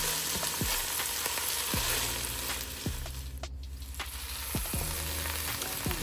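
Onions, garlic and celery sizzle and fry in a saucepan, a steady crackling hiss broken by occasional scrapes of stirring, close up with no talking.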